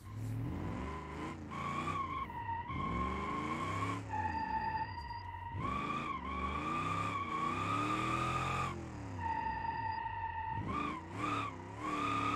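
A car drifts down a mountain road in the BeamNG driving game, its engine revving and tires squealing in long wavering tones that rise and fall through repeated slides, close and loud with no talk.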